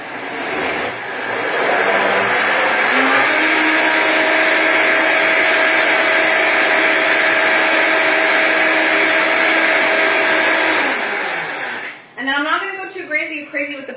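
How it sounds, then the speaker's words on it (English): A blender whirs loudly and steadily for about eleven seconds as it blends a sauce with noodles waiting to be added, then it cuts off and a voice starts talking. "I'm going to put that right back onto the blender for a minute."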